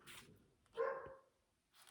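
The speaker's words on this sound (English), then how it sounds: "That is my dog calling me." A pet dog barks indoors, one short fairly faint bark in the middle with quieter rustling before and after and no talking.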